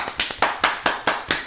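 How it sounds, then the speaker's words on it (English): Hands clap close by in a steady, even rhythm, about six sharp claps in quick succession with nothing else heard. "I'm clapping my hands and feet"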